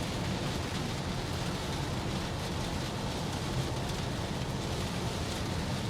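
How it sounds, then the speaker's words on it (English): Heavy rain drums steadily on a moving car during highway driving in bad weather, a dense, constant wash of noise with road rumble beneath and no pauses. "I don't see the rain letting up at all."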